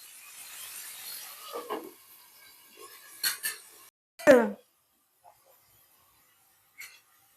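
A lid is set on a cooking pot of frying tomatoes and small onions, giving one distinct metallic clink amid soft handling noises, with a faint tap afterward in an otherwise quiet kitchen.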